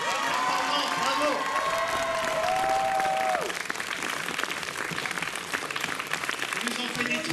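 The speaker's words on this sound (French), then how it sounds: "Bon, je pense qu'on peut les applaudir." Audience applause after a school play performed by third-year pupils, a dense, loud wash of clapping with some cheering, while voices speak and exclaim over it.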